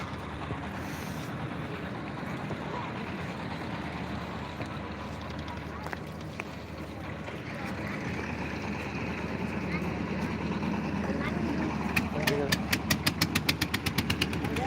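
A motorboat crossing the Brahmaputra river, its engine a steady low drone with water and wind noise, people talking nearby and a rapid rattling burst near the end.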